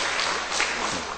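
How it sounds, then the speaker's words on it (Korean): A church congregation claps briefly, a dense, steady burst of applause filling the room with no voices over it. "김우리 집사님은 찬양만 해도 박수하는데 저는 죽고 살고 해도 박수도 없습니다."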